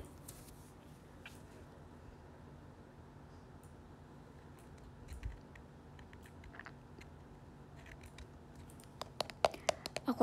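Soft clicking of a computer keyboard being typed on, faint and steady, growing into sharper, denser taps near the end, with quiet talk in the background.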